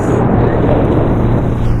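A loud, steady engine roar with heavy rushing noise from a motorboat running at speed close by at Bolinao Beach.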